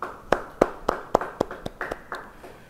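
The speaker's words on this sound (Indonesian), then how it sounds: "Yang percaya beri tepuk tangan bagi dia." Congregation at a church Bible study clapping hands, about ten distinct claps in a steady rhythm, fairly faint and slightly distant, with no voices over them.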